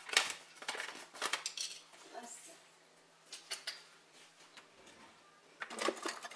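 Metal teaspoons and tablespoons clinking against bowls and each other while sugar is measured for a lemon blueberry loaf, a few sharp bright clatters at the start and end with softer handling in between, fairly quiet.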